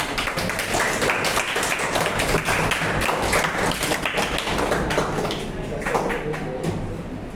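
An audience claps after a talk on freedom of speech, a dense patter of hand claps that runs the full stretch and thins slightly toward the end.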